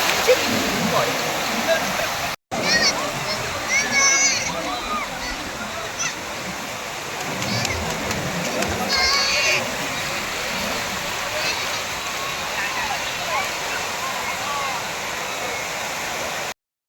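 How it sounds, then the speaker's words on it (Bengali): Sea waves roll and break at Puri beach as people bathe, a loud, continuous rushing surf with swells of splashing and voices mixed in, briefly cutting out twice. "এই যে ঢেউ আসছে, ঢেউ খাচ্ছি"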